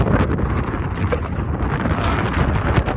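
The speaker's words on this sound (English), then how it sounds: "It's really windy." Heavy wind rumbles continuously against the microphone, a loud low-pitched roar with brief gusty swells.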